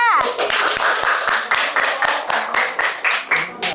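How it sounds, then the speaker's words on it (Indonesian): Classroom students clap for a presenting group in a steady, evenly spaced rhythm of sharp claps that continues throughout, with voices chanting or talking along. "tepuk tangan untuk kelompok 2"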